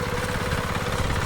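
A tractor engine runs steadily in a paddy field in Tirlot, Devgad, during rice-planting season, giving a continuous close, throbbing mid-pitched rumble with no break.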